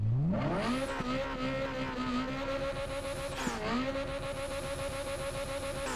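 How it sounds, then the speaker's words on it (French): In-game car in Need For Speed Carbon revving up and bouncing off the rev limiter, a steady loud buzzing engine note with a brief dip and re-rise midway, no talking. "Attendez, on va faire un test du rupteur."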